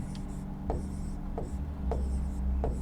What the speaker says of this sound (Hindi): जैसे मैं लिखता हूं